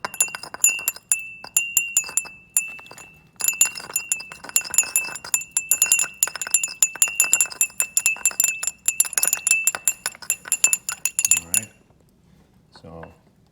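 Salt is stirred into water in a small glass beaker, giving bright, rapid clinks and scrapes of a spatula against the glass, close and busy, then trailing off into near silence.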